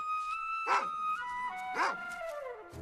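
A dog barks twice nearby, two sharp yelping barks spaced about a second apart over a steady tonal background score.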